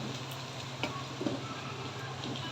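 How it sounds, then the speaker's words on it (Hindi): Eggs and potatoes frying in a pan give a continuous quiet sizzle, with a few light ticks and a soft utensil tap or two. "इनको अच्छे से फ्राई करेंगे"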